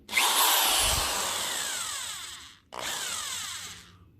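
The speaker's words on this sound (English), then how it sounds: "I plug my drill into every one of these outlets" A power drill whirs loudly for a couple of seconds, stops briefly, then spins up again; no voices.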